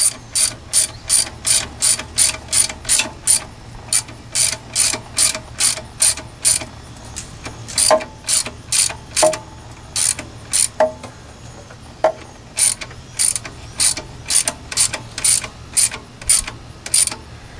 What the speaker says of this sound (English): just start cranking down on this nut, and it will tighten up your belt